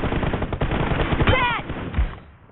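Gunfire in a shooting video game, rapid bursts of shots rattling close and loud through the clip while someone talks excitedly over them.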